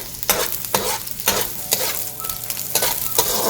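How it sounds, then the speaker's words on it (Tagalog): Garlic and onions sauté in a pan for pork sarisari, giving off a steady sizzle broken by spatula stirs that scrape roughly every half second, close and fairly loud. "you gisa the garlic, and then onions."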